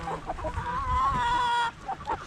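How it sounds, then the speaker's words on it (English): A young rooster and hens cluck close by in a farmyard, with one drawn-out, wavering crow-like call in the middle before the clucking resumes. "Baby rooster."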